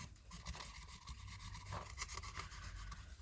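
Hands rub steadily along the ribs of a Halloween skeleton prop, making a dry, scratchy, rasping sound that runs close and continuous for a few seconds, with no voices.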